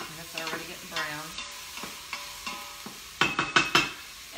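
Chopped onion sizzles and browns in a pan on an appliance with a sear function while risotto is being made, with close, steady frying crackle and intermittent scraping stir strokes, ending in a louder burst of stirring.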